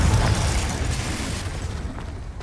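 A Confringo blasting spell explodes in the Hogwarts Legacy video game, giving a loud, dense boom with a heavy low rumble that slowly fades over a couple of seconds.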